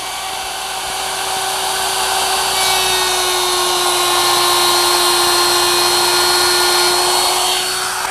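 A router widens a groove in wood with the workpiece held against a fence, giving a loud, steady high-pitched whine that holds through the whole stretch without a break.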